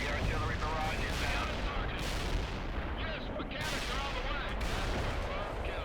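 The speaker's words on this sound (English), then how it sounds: "Let's call in another artillery strike here." An artillery strike in the video game World in Conflict, a dense barrage of heavy booms and rolling explosions overlapping continuously at high volume for several seconds, with a couple of brief lulls.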